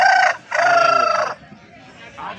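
A tall Setu-breed rooster, about three kilograms, crows loudly and close at a Sunday hen market in Pileru, giving a short call and then a longer one before quieter market noise follows.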